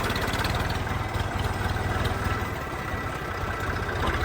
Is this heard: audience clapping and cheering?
no